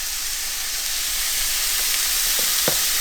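Venison browns in a pan with added garlic and onion, giving a steady, fairly loud frying hiss with a few brief stirring knocks near the end.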